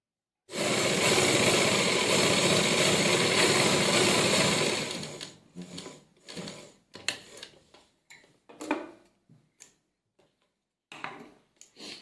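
A sewing machine stitches a half collar neckline, running in one loud continuous whir for about four seconds, then breaking into short bursts and scattered ticks as the fabric is guided.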